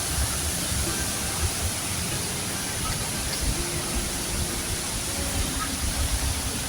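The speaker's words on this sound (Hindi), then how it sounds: "पानी की आवाज सुन रहे होंगे आप। इतनी तेज आवाज है" Loud, steady rushing water fills the scene, a dense continuous roar of a nearby waterfall in northern Iran, with no breaks.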